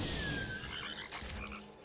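Frogs croak loudly as the Rain of Frogs card effect plays in Eternal Card Game, a short burst of layered croaks with a swooping tone and a crash, set over game music, no speech.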